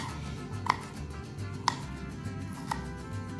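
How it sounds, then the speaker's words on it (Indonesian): Garlic cloves are crushed with the flat of a knife on a cutting board, three sharp, separate knocks about a second apart, close and quiet, over low background noise with no talking. "Kalau bawang putihnya nggak usah nggak usah diiris, tapi digeprek"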